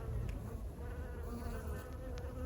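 Bees buzzing around flowering ceanothus in a garden, a soft continuous hum of several insects close by, with a few louder passes.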